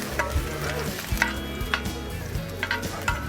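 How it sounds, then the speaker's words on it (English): Garlic simmers in olive oil in a pan, giving a continuous low bubbling sizzle with scattered soft pops and light clinks near at hand; no voices. "take some olive oil and simmer the garlic"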